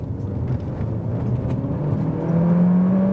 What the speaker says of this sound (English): let's now see how much power this engine has from 30 kilometers an hour